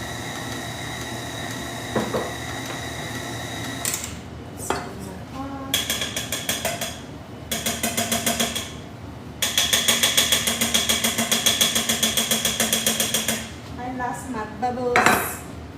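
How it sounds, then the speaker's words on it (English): Baking pans being seasoned clatter and rattle loudly in a home kitchen, with bursts of rapid metallic rattling and scraping, pauses between bouts, and a long steady rattling run near the end. "it makes a lot of noise to season the pans"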